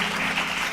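Dense audience clapping during a Bible study message, a brief continuous burst of applause filling the room.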